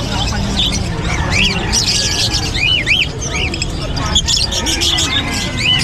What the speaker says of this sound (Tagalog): Ang gaganda ng ibon ni Boss Marvin, no?